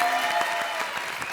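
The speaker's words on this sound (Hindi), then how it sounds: "चलो सोहेल भाई, ताली बजाओ।" A studio audience on an Indian comedy show claps in a brief, dense burst of applause, steady and moderately loud.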